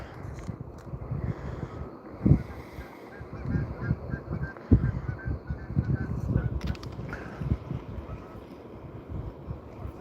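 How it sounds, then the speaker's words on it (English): Geese honk repeatedly in the background at a lakeside rock wall at sunset, with wind buffeting the microphone and a low steady rumble underneath. "Probably hear the geese in the background there."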